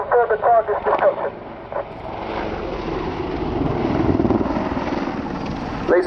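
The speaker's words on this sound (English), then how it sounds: "the Apache is now completing a 360-degree wing over and is positioning into the hover in front of us." An Apache attack helicopter performing a wingover and settling into a hover at the RIAT 2014 air show, its rotor and engine roar swelling steadily after a public-address commentator speaks over it.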